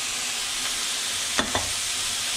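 Five German sausages drop into a pot of hot water over a steady hissing, bubbling boil, with two brief soft splashes close together.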